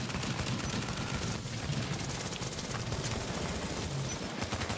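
Gunfire in Tom Clancy's The Division in the Dark Zone, a dense continuous barrage of shots and bursts filling the whole stretch at steady loudness, with no talk.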